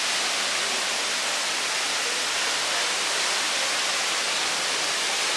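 A large fountain at Bird Paradise in Singapore pours water down from above, making a loud, dense, unbroken roar of falling water close by.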